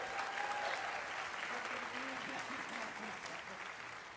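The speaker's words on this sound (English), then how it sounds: "Big round of applause." Applause from a concert audience for a junior and senior high school honor jazz band, a soft, steady wash of clapping heard from a distance and fading slightly over about four seconds.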